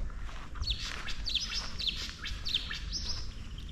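A fish-eating bird calls by the Kerala backwaters, repeating sharp high chirps about every half second, mid-distance and fairly clear over a soft outdoor background.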